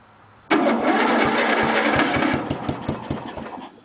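A 1999 Murray lawn mower engine cold-starts without choke, catching abruptly into a loud, steady running roar that then roughens into uneven, sputtering pulses as it struggles to hold idle.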